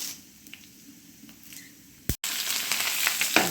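Hot oil in a frying pan for fish curry hisses quietly, then erupts into loud, crackling sizzling as the spicy chilies hit it, close up.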